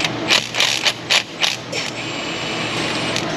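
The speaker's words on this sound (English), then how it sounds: "Bolt coming out." A hand ratchet works a bolt loose on the drivetrain of a 4.0 L six-cylinder Jeep XJ, giving about six sharp, close clicking bursts in quick rhythm before trailing off into quiet shop noise.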